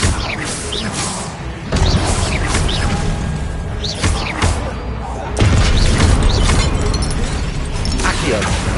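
Fiery blast effects from a Harry Potter video game, with repeated booming bursts and whooshes cast one after another, dense and loud throughout.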